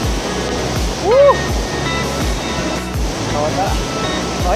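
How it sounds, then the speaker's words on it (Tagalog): A waterfall at Infanta pours in a steady, loud roar of falling water that fills the whole scene, with faint whistle-like voice sounds rising briefly over the rush. "Ito yung falls."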